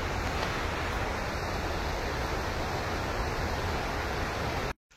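Water overflows Itiadoh dam in Gondia and falls in a dense, continuous roar, loud and steady throughout with no voices, cutting off abruptly at the very end.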